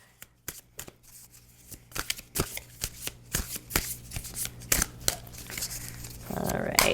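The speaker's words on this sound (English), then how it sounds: "I'm going to shuffle this on screen so that you know that the deck isn't rigged in any way" A deck of tarot cards is shuffled by hand in a series of quick riffling, flapping bursts, close and fairly loud, with a voice speaking faintly in the background.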